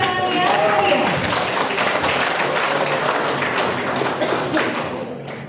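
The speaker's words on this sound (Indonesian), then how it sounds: "beri tepuk tangan yang meriah" A crowd gives lively applause at a school book launch, dense clapping filling the room loudly and continuously, with some thuds and taps mixed into the wash.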